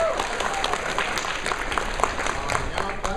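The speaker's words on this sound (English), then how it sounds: "Round of applause for Reno for Australia." An audience at a guest panel applauds in a dense, steady round of clapping that lasts the whole moment, moderately loud.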